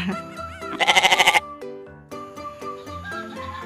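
A goat bleats loudly up close with a long, wavering cry, followed by a few shorter, quieter bleats.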